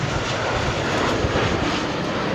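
A Lufthansa A321 airliner roars steadily at London Heathrow Airport, a loud broad jet rumble that fills the whole moment with no voices.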